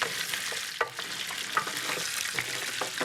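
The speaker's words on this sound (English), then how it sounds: "get a good flavorful tomato paste and stir that around in the pan" Tomato paste gets stirred around a hot pan, giving a continuous sizzle with repeated scraping strokes of a utensil at a moderate, fairly close level.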